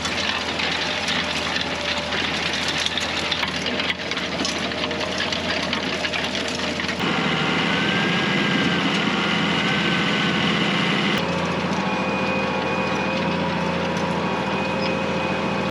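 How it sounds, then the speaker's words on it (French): A tractor pulling a rotary harrow across a steep, bowl-shaped clay field, its engine droning steadily with a constant mechanical whir and rattle, fairly close and loud throughout, with a slight shift in tone partway through. "c'est pour ça qu'on passe aussi la herse rotative pour péter tous ces blocs"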